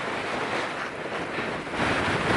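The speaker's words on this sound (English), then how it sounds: "it's getting windy again" Steady wind gusts roar against the microphone in a broad, rushing hiss on a mountain hiking trail among bushes, swelling slightly toward the end with no voices.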